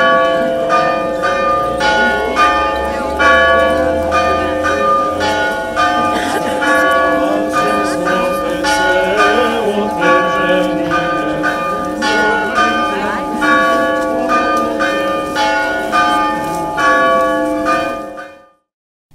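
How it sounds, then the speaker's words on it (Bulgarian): Church bells peal continuously and loudly with overlapping rhythmic strikes, rung in Sandanski to open the Epiphany procession, a dense ringing that fills the whole stretch before cutting off at the end. "Камбанен звън даде началото на литийното шествие"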